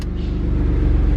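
Alfa Romeo Stelvio Quadrifoglio engine in race mode, a loud, close, steady throbbing rumble with a slightly building growl over about a second.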